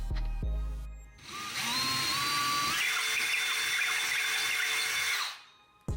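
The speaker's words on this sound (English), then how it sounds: "Drill the hole." A power drill bores a hole into a wall to take an anchor, a close, steady high whine that runs for about four seconds between brief start and stop sounds.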